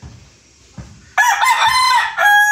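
A five-month-old stag crows once, loud and close, a harsh rising call that holds then cuts off, after a few soft low clucks and rustles.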